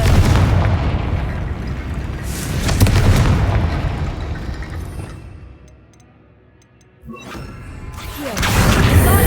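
Confringo blasting spells in Hogwarts Legacy erupt in several heavy, booming explosions spaced a few seconds apart, with a quieter lull before the final blasts return at full strength.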